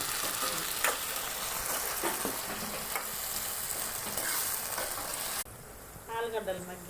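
Potatoes frying in a pan crackle and sizzle steadily with intermittent stirring scrapes, close and fairly quiet; near the end the sizzle drops away and a brief voice-like tonal sound appears.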